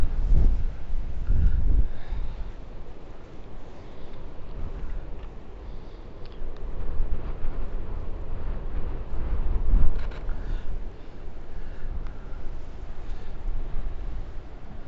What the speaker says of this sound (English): In this wind, everything is just moving around so quick.